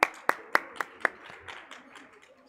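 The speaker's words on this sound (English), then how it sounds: "Please give him a round of applause" Audience members at a financial summit clap, starting with a few sharp, separate claps and fading into softer, scattered clapping that trails off quietly.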